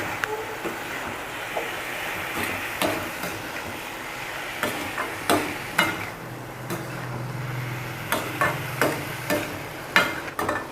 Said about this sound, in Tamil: இப்போ நம்ம வேக வச்சுருக்கிற பாவக்காவும் கறிவேப்பிலையும் ரெண்டுத்தையுமே நம்ம சேர்த்துக்கலாங்க. சேர்த்துக்கிட்டு நல்லா கலரி விட்டுடலாம்.